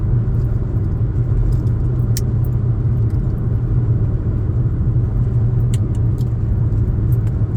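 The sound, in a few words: car driving on road, driver changing into fifth gear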